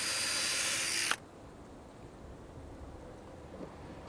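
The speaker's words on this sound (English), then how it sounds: "all I need to do is drill a hole and then fix our hooks onto that" Power drill boring a hole into a wooden roof rafter for shade sail hooks, a loud whirring burst for about a second before cutting off abruptly, leaving quiet background and a faint knock.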